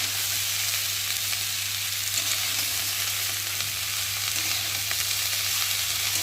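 Washed cabbage sizzles and fries in a pan of well-cooked spiced masala, a steady close crackling hiss running evenly throughout with no voices.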